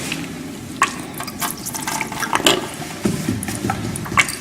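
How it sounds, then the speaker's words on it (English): Distilled water splashes and gurgles as two small colorimeter vials are rinsed, a close, steady run of liquid sloshing with small clicks of glass throughout. "you're going to take your 2 vials and you're going to rinse them with distilled"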